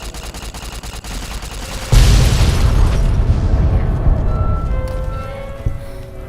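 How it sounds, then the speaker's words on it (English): A loud blast from satchel charges in Fallout: New Vegas, with a sudden heavy boom about two seconds in, preceded by rapid gunfire and followed by a long rumbling, crackling tail. "These fucking satchel charges."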